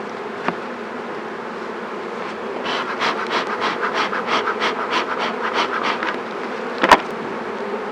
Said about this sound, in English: Those are all nurse bees, so we want to dump them back in there with the frames we took out